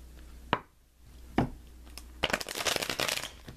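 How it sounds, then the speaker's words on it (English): Tarot cards are handled in a monthly forecast reading: two single sharp card snaps, then a dense burst of shuffling close by in the last second and a half. "Let me pull you some clarifying cards here."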